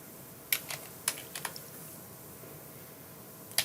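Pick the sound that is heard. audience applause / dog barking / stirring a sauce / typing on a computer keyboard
typing on a computer keyboard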